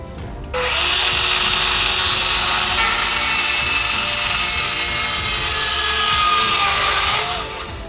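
A Makita HS301D 10.8V cordless mini circular saw spins up and cuts steadily through wood with a loud, high whine that holds for about six seconds, then winds down at the end.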